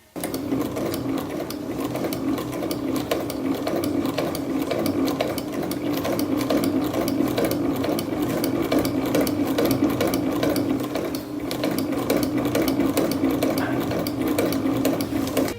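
A sewing machine stitching a fabric sleeve, a steady rapid mechanical whir and tapping that runs continuously and close for the whole stretch, with no talk.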